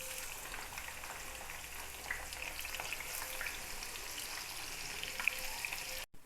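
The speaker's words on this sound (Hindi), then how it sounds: "अब इसके अंदर 2 दरमियाने प्याज लेके इनको गोल्डन करेंगे।" Two medium onions fry toward golden in a cup of oil in a frying pan for chicken haleem, producing a soft, even, continuous crackling hiss that cuts off abruptly at the end.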